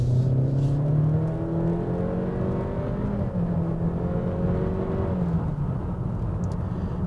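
A 2019-2020 Honda Accord with a 2-liter engine and manual transmission accelerates strongly, the engine note rising steadily in pitch through the gears under continuous road and wind noise.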